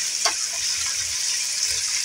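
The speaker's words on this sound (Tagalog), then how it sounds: "May stir fry ko muna yung mga sangkap." Carrots and potatoes stir-fry in a pan for chicken wing caldereta, a steady hiss of sizzling oil with faint scraping of the spatula throughout.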